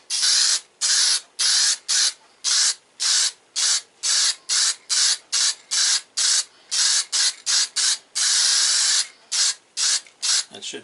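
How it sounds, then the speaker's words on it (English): A spray bottle fires repeatedly in short hissing bursts, about two per second, close and loud, with brief silent gaps between squirts. "So we'll just give that a good go with the spray."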